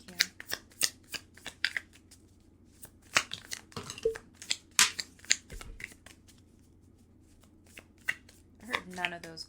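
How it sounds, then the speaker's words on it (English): Tarot cards are shuffled in a long run of crisp riffles and flicks, some spilling onto a table, with a voice speaking faintly underneath. "You guys have no idea how many cards just flew out on the table"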